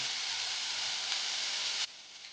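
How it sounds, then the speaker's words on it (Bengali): Potato and beetroot pieces fry in hot oil, giving a steady close sizzle with a faint crackle that drops abruptly quieter near the end. "বিটের টুকরোগুলো আলু আর বিটের টুকরোটা কিন্তু ভালো করে ভেজে নিতে হবে"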